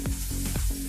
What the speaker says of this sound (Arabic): وهنسيب الثوم يحمر